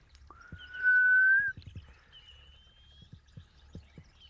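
A single clear, rising whistled call from a violet-backed starling rings out, followed by faint softer notes amid quiet low thumps.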